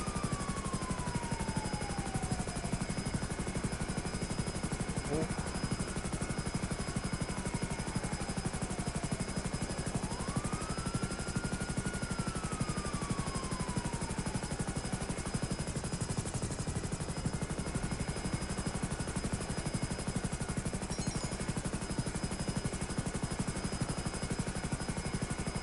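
A Hunter helicopter flies in GTA 5 with a constant, loud rotor and engine drone that never lets up, over faint tonal sweeps and no talking.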